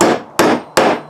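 Three sharp, ringing hammer strikes on a steel nail punch, evenly spaced and very close, each metallic hit decaying quickly before the next.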